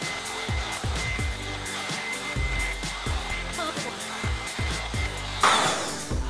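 A VoluLUXE hot air hair dryer runs with a steady whirring airflow hum, rising briefly near the end, close and continuous with no talk over it.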